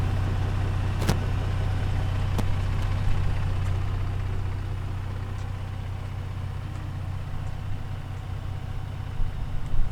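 A 2017 Ford F-150 Raptor pickup truck engine idles steadily at close range, a low continuous rumble with a few faint clicks, and no voices.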